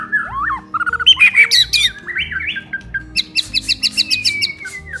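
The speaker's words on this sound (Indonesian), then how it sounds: "murai batu merupakan burung yang populer dan banyak dipelihara karena kicauan merdunya" A white-rumped shama (murai batu) pours out a varied, loud song of rapid whistles, chirps and squawking phrases, close by and continuous, over a steady low hum in the background.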